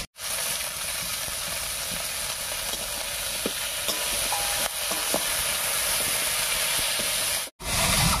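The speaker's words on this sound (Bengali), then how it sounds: "এবার এর মধ্যে দেবো চিড়ে রাখা টমেটো আর কাঁচা লঙ্কা।" Tomatoes and green chillies frying with browned onions in a pan, a steady close sizzle with scattered stirring clinks, dipping briefly silent near the start and again near the end.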